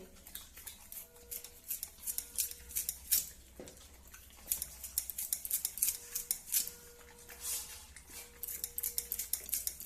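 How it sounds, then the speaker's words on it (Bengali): A knife slicing carrots thinly on a cutting board at home, giving quick repeated crisp chops in uneven bursts, close and fairly quiet. "পাতলা পাতলা করে কাটবো"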